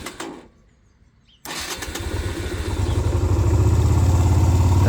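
Yamaha Virago 125cc motorcycle engine: a brief cranking, a short pause, then the engine catches and settles into a steady, loud, throbbing idle, close by with no talking.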